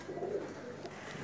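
Pigeons kept in pairs in their coops coo softly in a low, rolling murmur, faint and steady, with no voices over it.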